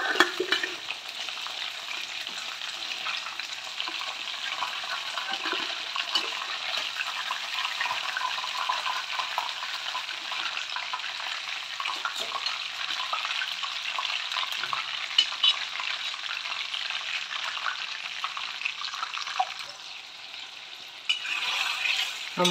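Chicken pieces fry in oil in a kadai over a flame for a dhaba-style kadai chicken, giving a steady, close, dense sizzle with crackling pops throughout and a brief dip near the end.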